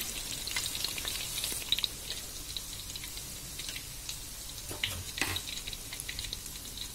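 Tofu frying in hot oil, a soft crackling sizzle with scattered pops and brief stirring clatter, fairly quiet and close, with no voices.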